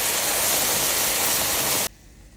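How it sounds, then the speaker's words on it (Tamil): A loud, broad hissing rush of boiling water poured into wheat semolina for pongal, sustained close up for nearly two seconds before cutting off abruptly to quiet. "இப்போது நல்லா கொதிக்கிற தண்ணியை ரவையில் சேர்த்துக்கோங்க."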